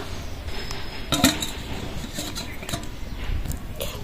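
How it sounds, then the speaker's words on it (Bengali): Metal kitchenware clinks and knocks as a lid is set over a pot holding a silver plate and semolina cake batter, several sharp taps and a scrape against a low background hum, close and fairly clear. "তিরিশ মিনিটের জন্য আমি ঢাকা দিয়ে দেবো"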